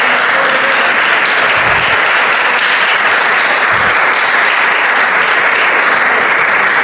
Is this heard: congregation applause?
yes